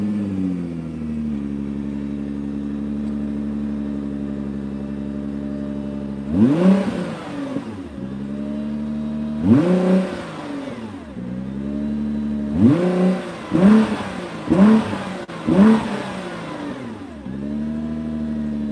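A 2020 Nissan GT-R Nismo idles steadily in park, then its engine is blipped in a series of sharp revs that rise and fall back, first two separate pulls and then a quick cluster of four or five, loud and close with no talk.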